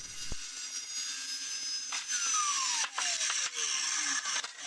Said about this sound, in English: look how straight this saw is cutting